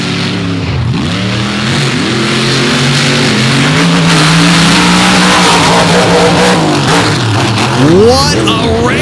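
Drag racing cars at Dragway 42 roar loudly and continuously, engines revving and rising in pitch as they launch and pull away, with a commentator talking over the noise.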